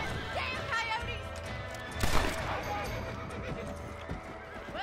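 In the Red Dead Redemption video game, a horse gives a loud whinny near the middle. Hooves clip-clop and other game sounds continue around it, and someone talks over it.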